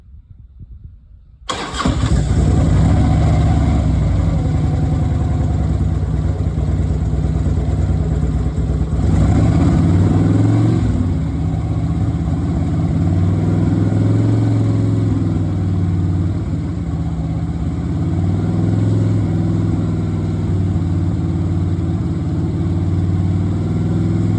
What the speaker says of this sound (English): we're going to start the bike. And I'm gonna rev it up a little bit